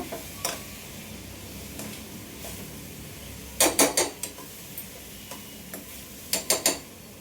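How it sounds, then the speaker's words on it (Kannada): Stirring food in a pan while cooking sihi kadubu, a sweet dish, with sparse scrapes and clinks of a utensil against metal, including a cluster of sharper knocks midway, over a soft background hiss. "ನೀಟಾಗಿ ಹಿಂಗೆ ಚೆನ್ನಾಗಿ ತಿರುಗಿಸ್ಬೇಕು."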